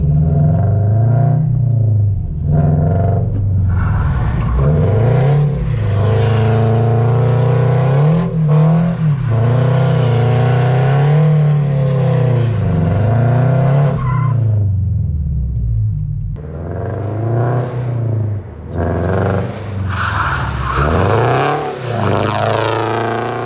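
A Toyota GR86 drifts hard, its engine revving up and down in long wavering surges while tyres squeal and skid. The runs are loud and close and continue for the whole stretch, with short dips between passes and no talk.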